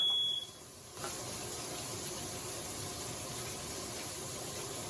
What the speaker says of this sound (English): I thought that smoke detector was going to have more to say